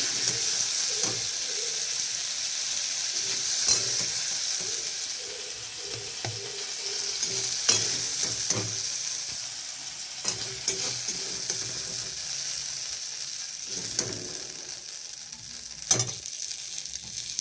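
Shrimp frying in oil in a pan, a steady bright sizzle with occasional stirring scrapes and clinks, close and continuous, with no talk.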